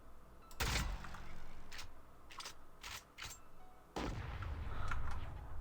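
A proximity launcher rocket in a video game explodes with a sudden loud burst, then a few shorter reports follow, and a second heavy blast comes near the end. No one speaks.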